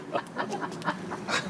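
A dog pants in short rhythmic breaths during an indoor wedding ceremony, several quick huffs close by.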